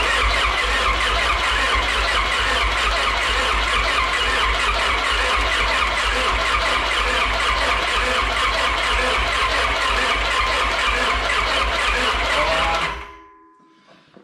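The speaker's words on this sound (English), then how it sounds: "I guess crank it over till the oil light goes out" A Honda F20B engine being cranked over with a sluggish, steady starter churn that runs loudly for about thirteen seconds before cutting off abruptly.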